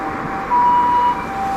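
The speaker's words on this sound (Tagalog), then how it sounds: "Andito po yung ambulansya." Ambulance siren in Gunma, Japan, a steady high tone that swells louder for about half a second then eases back, heard alone over faint street background.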